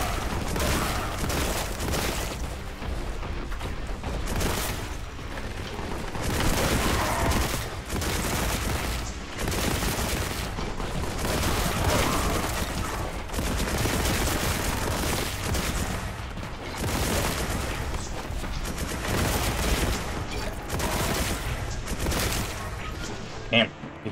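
Sustained heavy gunfire in the Boltgun game, dense continuous shooting and blasts filling the whole stretch at high volume.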